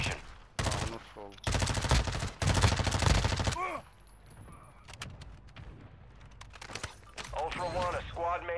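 Video game gunfire: loud automatic bursts rattle in dense volleys for about three seconds, then give way to scattered single shots and quieter game sounds. Voices speak over the later part.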